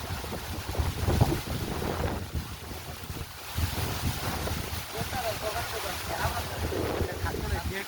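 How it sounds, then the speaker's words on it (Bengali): A strong stormy wind on Pohela Boishakh buffets the microphone in rising and falling gusts that roar close and rough, with voices talking through it. "ওরে বাতাস"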